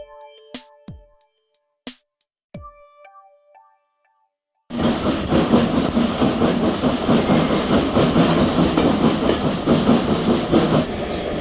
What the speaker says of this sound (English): Our locomotive for the trip is WD-92 Wagoner, a newly overhauled austerity tank engine which had been built in 1953